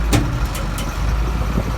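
Old Case 580 tractor engine straining to pull a bus, a loud, close, steady diesel rumble with a few brief higher clanks, no talk.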